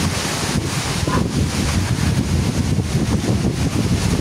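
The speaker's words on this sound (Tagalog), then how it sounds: "Lakas na po ng hangin." Strong typhoon wind roars and buffets the microphone continuously, a loud, dense rush with no voices.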